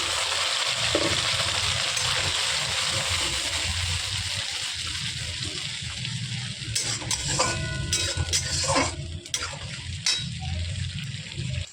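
A paste of onion, tomato, cashew and poppy seed goes into a hot kadai of browned onions for mutton kasha, giving a loud steady sizzle and frying hiss, then clattering stirring and metal scrapes near the end.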